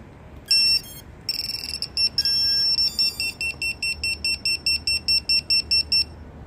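Vifly Finder drone buzzer sounds loud, shrill electronic tones, first a few irregular bursts, then a rapid regular pulsing beep repeating about three times a second, close and piercing.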